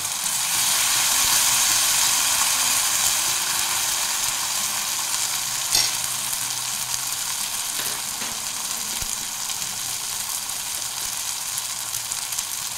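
Bata fish fries with green chillies and a ground mustard, chilli and garlic paste in a pan, giving a steady, bright sizzle with occasional pops and light clinks, unbroken by speech.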